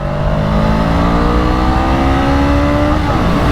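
A Honda Rebel 500 cruiser motorcycle engine revs up steadily while accelerating out of a bend in second gear, a loud, continuous rising drone heard close with no talking.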